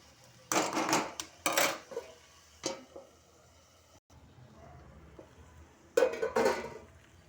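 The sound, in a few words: soaked moong dal added to cabbage in a cooking pot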